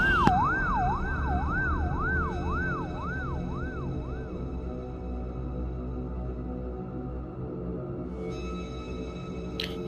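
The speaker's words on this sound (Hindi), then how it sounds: "थोड़ी देर बाद एम्बुलेंस भी आ जाती है" An ambulance siren wails in a rising and falling sweep, loud and close for several seconds before cutting off, leaving engine rumble and traffic noise with a brief electronic tone near the end.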